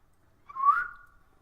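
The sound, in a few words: person imitating a whistle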